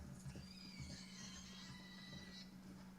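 A horse whinnies in a Western open-world game setting, a drawn-out high neigh with wavering pitch over a steady low background hum and faint hoof-like thuds.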